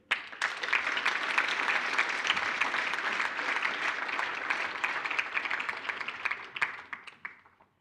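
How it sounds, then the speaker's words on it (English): Sustained audience applause at a maths awards ceremony, a dense, steady wash of many hands clapping that holds evenly for several seconds before tapering off. "A round of applause once again."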